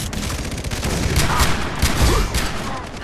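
Rapid gunfire in a co-op firefight in the video game Far Cry 3, loud overlapping bursts of shots without pause, close and intense.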